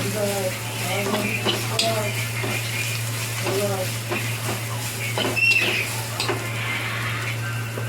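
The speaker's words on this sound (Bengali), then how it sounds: "দিয়ে নেড়ে চেড়ে ভালো করে একটু ভেজে নিলাম।" Cumin powder fries in a pan with a steady sizzle under a low hum, while a utensil scrapes and taps the metal in loose repeated strokes; a voice is faintly present.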